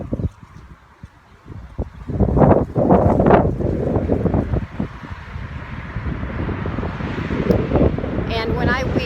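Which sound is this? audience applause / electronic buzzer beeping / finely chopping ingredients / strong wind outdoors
strong wind outdoors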